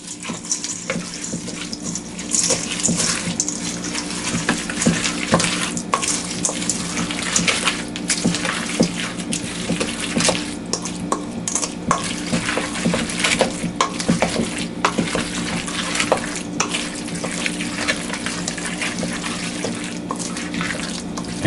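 Ingredients for Wroshyr Bramble being mixed in a bowl, a continuous wet, swishing stir with a steady, dense texture that carries on without pause.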